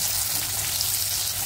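Curry leaves and a pinch of asafoetida sizzling in hot oil in a pan, a loud, steady, close crackling hiss with no break.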